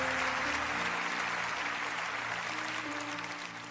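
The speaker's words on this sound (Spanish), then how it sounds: "dale un aplauso al Señor en esto" A church congregation applauds during a sermon, a dense, steady wash of clapping that holds loud throughout and eases slightly toward the end, with faint sustained tones beneath.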